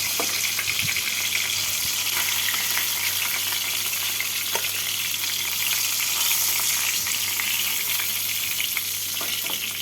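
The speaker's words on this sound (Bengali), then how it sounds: "বাকি মাছগুলোকে একইভাবে ভেজে নেব" Rui fish pieces frying in hot oil in a pan, a continuous dense sizzle and crackle held close and loud throughout, with occasional pops and stirring sounds, no talking.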